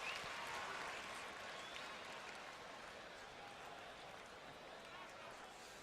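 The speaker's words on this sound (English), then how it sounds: "Really good crowd in here." A boxing arena crowd applauding between rounds at a Maidana versus Morales fight, a dense wash of clapping that swells at the start and then holds at a steady level, with no clear talk over it.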